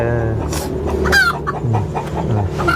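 Close chickens cluck busily in short, repeated bursts, with one higher, drawn-out squawk standing out among the steady farmyard clucking.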